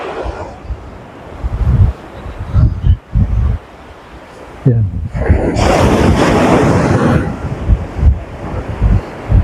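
Ocean surf rolls onto the long white-sand shore at Sabang Beach in Baler, Aurora, a surfing spot, with a broad wash of breaking waves swelling midway amid wind buffeting the microphone and someone talking over it.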